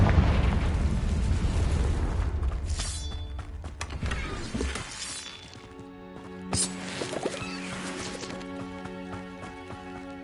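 A Confringo blasting spell in Hogwarts Legacy lets off a heavy explosive burst that rumbles and fades, followed by a second bright crackling blast with lingering tonal shimmer, fairly close and without talk.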